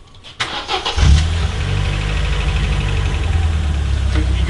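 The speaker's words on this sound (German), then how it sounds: "Erstmal hören wir uns die Laufruhe des Motors an." A car engine run with ketchup in place of motor oil starts up and settles into a loud, steady idle close by, with a low rough rumble and no talking.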